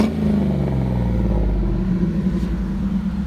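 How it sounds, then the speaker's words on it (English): A 2002 Ford Mustang GT with a manual gearbox and 4.6L V8 revving, giving a deep, rumbling exhaust note that swells and settles close by, with no voices. "Give it a couple of revs here so you can hear the exhaust note."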